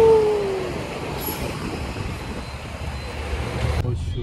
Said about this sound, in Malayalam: സൗണ്ട് ഇഷ്യൂ ഉണ്ട് കേട്ടോ, കുറെ വണ്ടികളൊക്കെ വരുന്ന കാരണം.